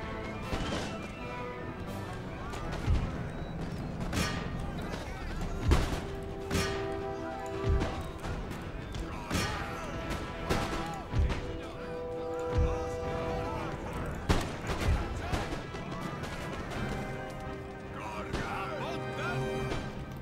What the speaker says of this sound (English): there's another devastating volley